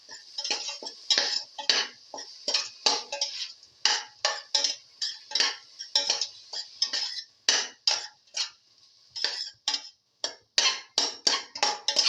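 Cabbage with lentils and tomato sautéed in a pan, heard as a rapid, irregular series of crisp scraping and clinking strokes of a utensil against the pan, close and fairly loud, with short pauses.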